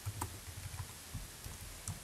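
Quick computer keyboard keystrokes tapping in short irregular bursts, quiet and close, with no voices.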